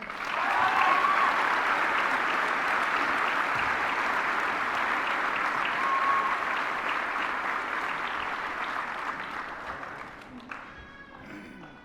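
A middle school audience applauds a student honoree at an 8th grade recognition ceremony, with sustained dense clapping that gradually thins and fades toward the end as a voice begins.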